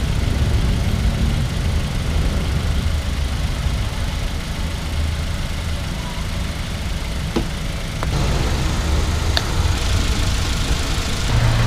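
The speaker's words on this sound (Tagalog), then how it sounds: "Tahimik na tahimik ang makina." A Nissan Sentra B14 engine idles smoothly after a tune-up and overhaul, a steady, even low rumble running unbroken for about twelve seconds with a couple of faint clicks near the end.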